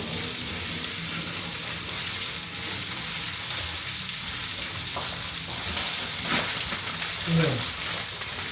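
Taco filling fries in a pan with a steady hiss and crackle, near and continuous, while some clattering and stirring sounds come through toward the end.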